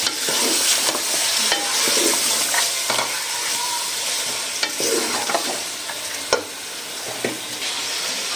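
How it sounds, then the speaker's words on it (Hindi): Steady sizzling of food frying in a pan until brownish for an egg and chicken curry, with occasional stirring scrapes and clinks, close and continuous throughout. "मिक्स कर लेंगे और इसको फ्राई कर लेंगे।"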